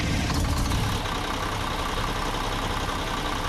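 A bus engine in the mobile video game Bus Simulator Pro Urban Rivals rumbles steadily at idle after a brief louder rev at the start, constant and fairly close, with no voices.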